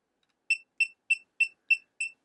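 An ANCEL PB600 automotive circuit tester sounds six short, evenly spaced electronic beeps, clear and close, signalling continuity through a shorted ground lead.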